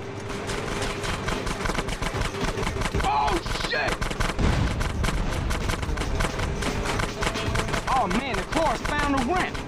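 Rapid, dense gunfire fills a shootout in the video game GTA San Andreas, with continuous loud bursts of shots throughout, mixed with game voices and other action sounds.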